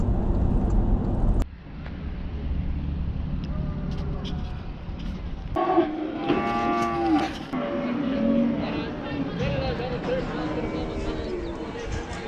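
Cattle low and moo at large livestock sale yards in Australia, several drawn-out calls at middle distance over a busy outdoor background, with people talking nearby.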